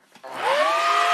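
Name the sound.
vacuum cleaner running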